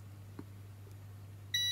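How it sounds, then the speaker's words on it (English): A multimeter in continuity mode gives a short electronic beep near the end after a faint click, testing a printer fuse, over a low steady hum in an otherwise quiet room. "I turn this multimeter on and I set to beeping mode."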